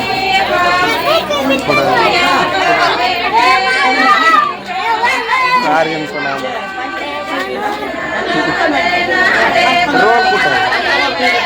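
Dense crowd chatter fills a busy gathering, with many overlapping adult and children's voices near and far, a steady babble that holds for the whole stretch around a crowded turban-tying stall.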